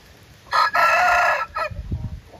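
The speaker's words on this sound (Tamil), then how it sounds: "இதுதான் அவங்க கோழி." A fighting rooster crows once, loud and close, a long strained cock-a-doodle-doo, followed by a few soft low clucks.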